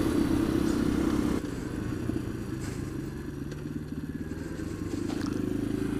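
A motorcycle engine rumbles along steadily, louder at first, then settling into a lower running drone with some rattling.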